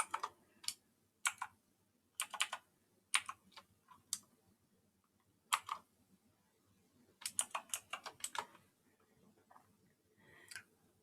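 Someone types a password on a computer keyboard, producing quiet bursts of quick key clicks separated by short pauses, close and alone.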